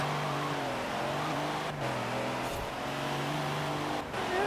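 A truck engine in the racing game Forza Horizon 4 holds a loud, steady droning roar throughout, with the pitch shifting slightly and brief dips that suggest gear changes, and no talking.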